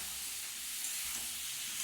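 Soft, steady frying hiss from a pan of pointed gourd, a faint continuous sizzle with no voices.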